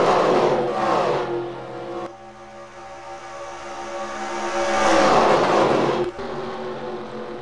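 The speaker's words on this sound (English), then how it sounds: "There's a good view of the cars exiting turn three and going down the back straightaway" NASCAR stock cars in a racing game howl down the back straightaway after turn three, their engines roaring past in two loud surging passes with rising and falling pitch and a sharp cut near the end.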